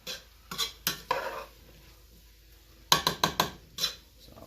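A spoon stirs an oil mixture in a pot while making corn chowder, giving sharp repeated scraping clinks against the metal in two clusters with quiet gaps between.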